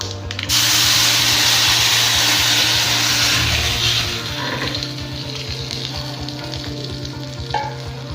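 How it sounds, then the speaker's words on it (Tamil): Spices splutter and sizzle in hot oil for a coconut milk rasam, an intense close frying hiss that starts abruptly and then eases into softer crackling with scattered pops. "நல்லா பொரிஞ்சிருச்சு."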